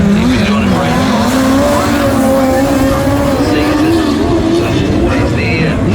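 A midget race car drives at Western Springs Speedway during qualifying, its loud engine droning and shifting in pitch across the whole stretch as a commentator talks over it.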